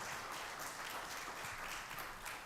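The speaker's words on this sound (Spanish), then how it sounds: "Denle un aplauso al Señor ahí." Church congregation clapping in praise of the Lord during a worship service, a steady, fairly faint wash of many hands applauding throughout.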